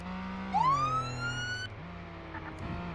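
A single emergency vehicle siren wail in the video game Flashing Lights rising sharply in pitch and holding, with a low engine drone underneath, fairly close.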